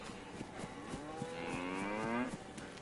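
Several cows moo in the survival video game DayZ, a run of loud, drawn-out lowing calls overlapping one another near and alone for a few seconds.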